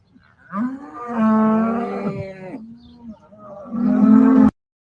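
Dairy cows mooing up close, two long drawn-out lowing calls with a short pause between them, loud and alone with no talk.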